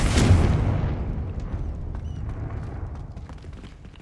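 A Confringo spell explodes in the Hogwarts Legacy video game, a single deep boom that hits loud at the start and then rumbles and fades over several seconds, with faint debris ticks.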